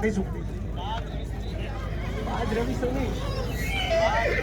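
A horse neighs during a horse show competition at the 2022 Ranakpur Jawai Dam festival, its whinny rising briefly beneath continuous announcer talk and crowd murmur.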